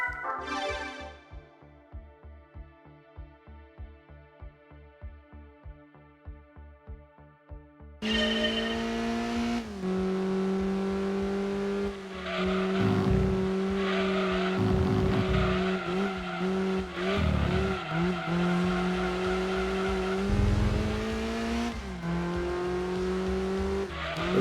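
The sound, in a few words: Toyota Celica SS2 cornering on track in Gran Turismo 2 video game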